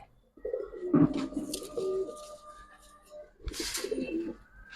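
Giribaz and coloring pigeons coo in a loft: repeated close, throaty coo phrases with a brief bright rustle between them and soft background noise.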